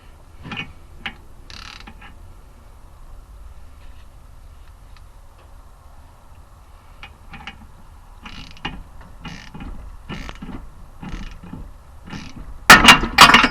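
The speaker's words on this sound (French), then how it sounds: "vous vissez bien votre arrache rotule et vous commencez à visser" A ball joint puller is wound onto the suspension wishbone ball joint of a Seat, Audi, VW or Skoda, giving sparse metallic ratchet-like clicks and creaks, then a loud, sharp burst of cracks near the end.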